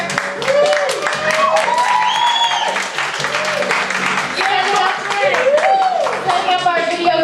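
An open mic poetry slam audience claps steadily and loudly for the whole stretch, with cheers and voices mixed into the crowd noise throughout.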